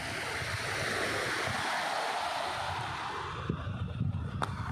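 Sea surf washing onto a beach at Al Ashkharah, Oman, a steady broad roar of breaking waves with gusty wind, heard alone and fairly close.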